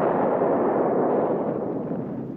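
Artillery fire from a World War II film battle scene against Japanese forces, a dense continuous roar of booms and rumbling blasts filling the whole stretch at steady loudness without pause.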